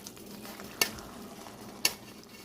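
A serving spoon taps twice against a pot or plate while yam porridge is dished out, with a faint hiss in the background between the two clinks.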